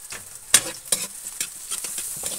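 Garlic sautés in a pan with a crisp sizzle, punctuated by a few sharp scraping stirs of a utensil against the metal, close and busy.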